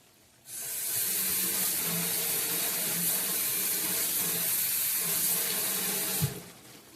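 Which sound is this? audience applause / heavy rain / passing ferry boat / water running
water running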